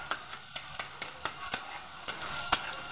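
Scrambled egg bhujia is stirred in a pan with about a dozen quick, evenly spaced scraping strokes over a soft, quiet sizzle.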